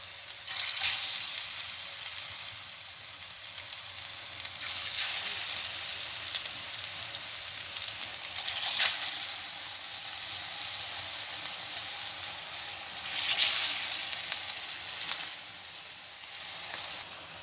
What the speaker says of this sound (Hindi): ऑयल हमारा गर्म हो गया है, अभी हम डालेंगे एक एक करके।